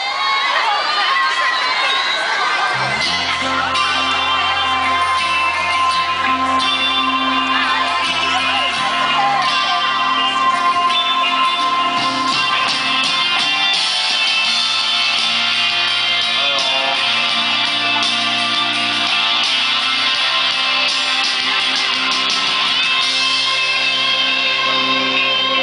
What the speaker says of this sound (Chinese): 再给我一次你们的尖叫声！